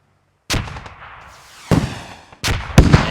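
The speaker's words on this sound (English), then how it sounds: "There's that RPG, Uma Rex." Explosions from an RPG and other weapons in a military video game land as three sharp, loud blasts, each followed by a rumbling decay, spaced about a second apart.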